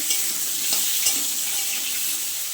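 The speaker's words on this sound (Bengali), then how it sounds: "ওই কড়াইতেই আলুগুলো ভেজে নিচ্ছি।" Potatoes frying in a wok give a steady, close sizzle with a few soft stirring scrapes and no speech.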